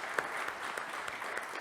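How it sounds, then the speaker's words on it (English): Audience applause at a talk event with Donald Trump Jr., a steady wash of many hands clapping, moderately distant and even throughout. "Give them a round of applause."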